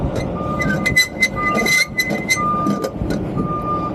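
Clinking metal and ratcheting clatter from flatbed truck winch straps being wound up, with intermittent high beeping tones and a steady rumbling background.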